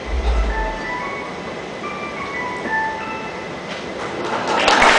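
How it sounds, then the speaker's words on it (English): A corporate ringtone jingle of about nine short electronic melody notes plays over a steady hiss of background noise, a brief low thump at the start, and a swell of noise toward the end. "I'd like you to listen very carefully on this basic corporate tune."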